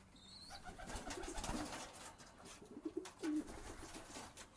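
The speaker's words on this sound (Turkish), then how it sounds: "Kuşlar, yavrular yeme düştü." Pigeons coo in short, low, throaty bursts against a busy background of faint chirps and rustling, the calls close by and repeating irregularly.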